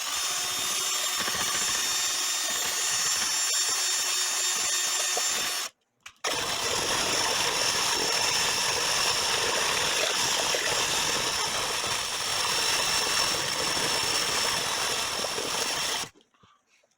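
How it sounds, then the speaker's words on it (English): A Black & Decker 20-volt cordless drill turns a mixing rod through paint in a 5-gallon bucket, a steady whirring churn running for about six seconds, pausing briefly, then continuing for roughly ten more before stopping. "this is a standard Black & Decker 20-volt drill with a 5-gallon bucket mixing rod"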